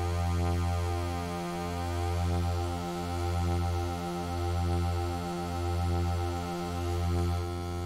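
A synthesizer tone made of two mixed saw waves holds a steady, buzzy drone that swells and dips in a slow, regular beating pulse, sounding alone with no voices.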